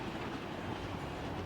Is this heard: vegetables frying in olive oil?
no